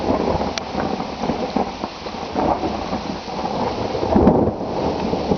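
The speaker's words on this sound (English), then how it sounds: "I love thunder." Thunder rumbles continuously over steady rain pattering on surfaces, loud and close, with no voices.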